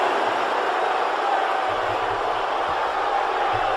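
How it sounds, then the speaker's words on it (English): Steady crowd roar from the arena audience in the wrestling video game WWE 2K19 during a Cena versus Roode match, a continuous loud wash of cheering with no clear breaks. "This crowd on their feet there."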